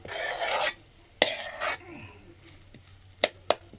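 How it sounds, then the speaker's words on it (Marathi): Spices tempered in hot oil crackle and sizzle in bursts close by, with a stirring spoon clinking in the pan and a few sharp taps toward the end. "बघा आपल्या अशा रीतीने आपला छान फोणीचा आवाज झाला आहे"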